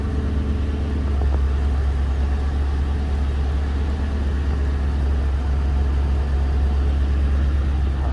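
A 2011 Ford Crown Victoria, an ex-Chesterfield police car, idles steadily with a deep, constant low rumble throughout, close and loud with no talking.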